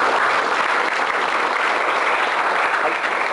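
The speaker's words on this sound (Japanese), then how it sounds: "拍手を持って励まして" Church congregation applauding during a Sunday worship service, a steady wash of clapping from many hands, even and sustained throughout, with no voices standing out.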